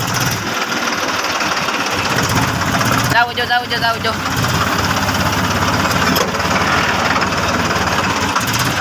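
A tractor engine in reverse gear rumbles loud and steady close by while someone repeatedly shouts directions over the noise.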